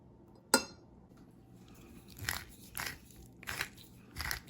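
Close crunching bites into pickled patty pan squash, a sharp crisp bite followed by several softer chewing crunches spaced about half a second apart, quiet room around.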